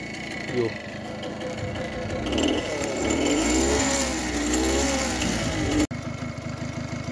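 A Babetta 210 moped engine runs steadily at close range, its idle rising and falling through small revs, with a sharp break near the end before the running resumes. Someone talks over the engine.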